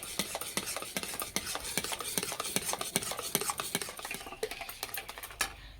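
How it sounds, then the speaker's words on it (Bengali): Hot jaggery syrup stirred off the heat in a pan to cool it for flattened-rice sweets, with steady rhythmic scraping strokes of a spoon, close and continuous with no talking. "এবার এইভাবে নেড়ে ঠান্ডা করে নেব"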